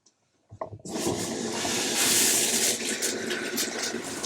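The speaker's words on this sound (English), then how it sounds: "here's the first hot shower that I've had in over a month" Hot shower water bursts on after a brief silence and runs steadily as a loud, broad hiss close by, with no talking.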